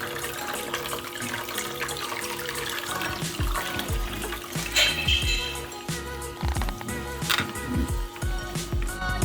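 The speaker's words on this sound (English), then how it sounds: "Then you pour just cold water on it" Cold water poured from a tap over cooked spaghetti in a kitchen, a steady splashing stream close by with irregular gurgles and spatters as the water hits the pasta, no voices.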